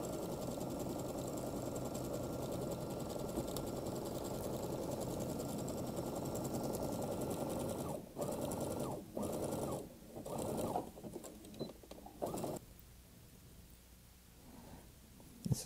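Sewing machine stitching fabric for a Shrek costume, a steady close whirring run for about eight seconds, then several short stop-start bursts of stitching with brief pauses between.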